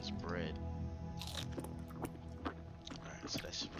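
Crunchy bite-and-chew sounds from eating bread in the video game Subterrain: Mines of Titan, several quick crisp crunches over about four seconds, close and moderately loud, with game background tones underneath.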